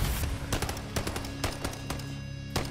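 Rapid gunfire from a pink gun in Call of Duty, sharp bursts of shots in irregular clusters, loud and close, with no talking.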